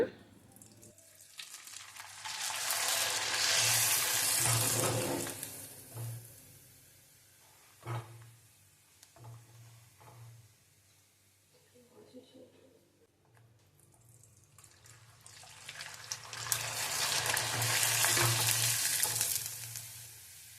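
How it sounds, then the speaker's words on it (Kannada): Rice-based tomato papad frying in hot oil, two long loud sizzling bursts as each wafer goes into the pan, with quieter bubbling, clinks and a brief voice in between. "ಆಯಿಲ್ ಬಿಸಿ ಆಗಲಿ ಎಣ್ಣೆ ಬಿಸಿಯಾಗಿದೆ ಈಗ ಹಪ್ಪಳ ಹಾಕೋಣ"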